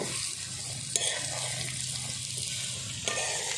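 Steady hissing sizzle of spices hitting hot oil in a pan for a boiled-chickpea tempering, continuous and close, with a couple of brief clinks.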